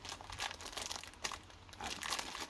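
Crisp plastic crinkling and rustling in irregular bursts, close by and fairly quiet, with no voices, while unboxing a Tamiya Volkswagen Golf Mk.1 model kit.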